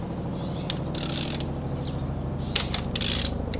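Ratchet with a 5/8 spark plug socket and long extension loosening a spark plug on a Nissan 240SX engine, giving several short bursts of metallic clicking with pauses between them, close up and with no talking.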